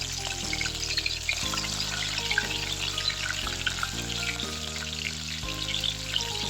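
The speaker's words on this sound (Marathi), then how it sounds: "आता तेल चांगलं गरम झालं की त्याच्यामध्ये हिरव्या मिरच्या घातल्या" Green chillies fry in hot oil in a wok with a continuous crackling sizzle, heard under a steady sustained tonal background hum.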